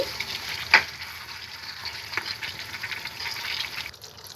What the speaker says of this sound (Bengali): এখন আমি কাঁচা পেঁয়াজ এবং দারচিনি, তেজপাতা এবং লবঙ্গ দিয়ে ভালো করে মিশিয়ে নিব